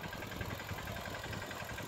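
A tractor engine runs at low speed while weeding a farm field, a steady close drone with a slight rumbling pulse and no talking.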